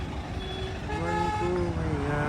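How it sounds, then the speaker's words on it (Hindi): A bus horn blares in sustained tonal blasts over a rumbling engine, heard from nearby. "ये वाला हॉर्न है"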